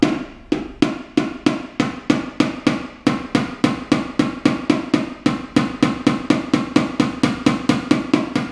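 A small hammer lightly taps a high spot on a car's rear quarter panel dent, making a rapid, even run of close, crisp metallic knocks over the whole stretch with no talking.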